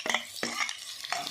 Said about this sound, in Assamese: এতিয়া গৰু ঘিউখিনি গৰম হ'ল, তাতে মই এতিয়া কাটি থোৱা পিঁয়াজখিনি দি দিছোঁ